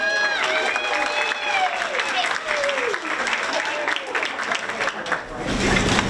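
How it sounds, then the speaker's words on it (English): An audience at a school reception applauds a student, with dense clapping and cheering throughout and a few shouted voices and whoops mixed in. "Let's give her a round of applause."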